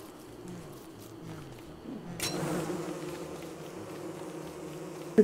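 Bees buzz in the Don't Starve Together video game, a steady low insect drone that swells briefly midway and runs under game background sounds.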